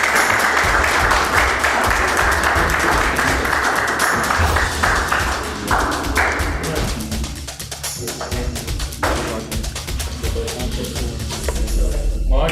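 Sustained crowd applause fills a school sports day event in Hasan Abdal, dense and continuous clapping from a large audience, with a faint voice mixed in.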